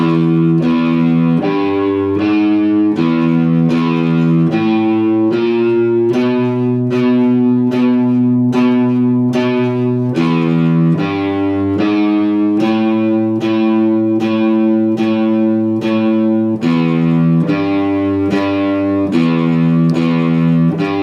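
Guitar strumming exercise for beginners, played slowly through its second part: steady, evenly spaced strums ringing out as sustained chords that shift every few beats, close and loud with no talking.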